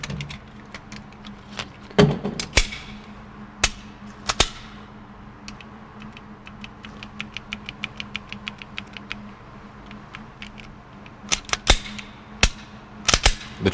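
A Smith & Wesson EZ 9mm pistol fires a series of sharp, separate shots, some spaced seconds apart and others in quick clusters near the end, each a crisp crack with short decay over a quiet outdoor background.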